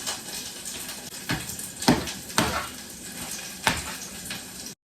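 Ingredients sauté in a pan for a creamy tofu basil soup, giving a steady broadband sizzle with a few sharper clinks and scrapes of a utensil against the pan, close and alone without talk.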